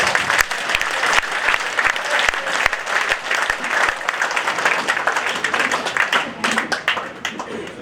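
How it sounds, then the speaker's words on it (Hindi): Standing rally crowd at an Ellenabad public meeting in Haryana applauding loudly, dense sustained clapping with a few sharp individual claps standing out throughout. "सारा खड़े हाथ करके ताली बजा के स्वागत करो"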